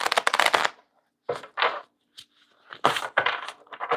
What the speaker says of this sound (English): I'll give it a quick shuffle and see what we end up with